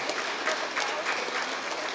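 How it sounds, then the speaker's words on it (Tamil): An audience at a spiritual astrology book launch claps vigorously, a thick, even wash of many hands that continues unbroken throughout. "உங்களுடைய பலத்த கைத்தட்டல் மூலம்"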